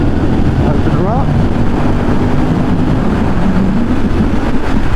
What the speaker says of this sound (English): you definitely really get that whoosh further up in the rev range